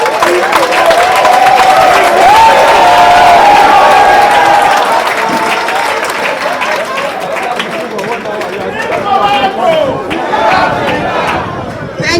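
A large audience at a public address claps and murmurs loudly, a dense roar of applause mixed with crowd chatter and voices, gradually thinning toward the end.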